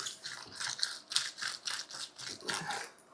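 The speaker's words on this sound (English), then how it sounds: "Put it in, roll it around. Supposed to get rid of the garlic peel." A garlic clove is rolled back and forth inside a silicone garlic peeler, making soft, rhythmic rubbing and crinkling sounds in quick repeated strokes, close and quiet.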